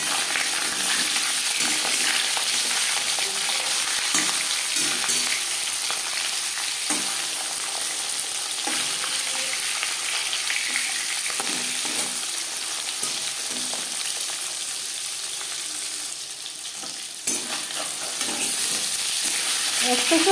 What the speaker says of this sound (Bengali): 5 চামচ রিফাইন্ড অয়েল গরম করে নেওয়ার পর দিয়ে দেবো ম্যারিনেট করে রাখা মাছ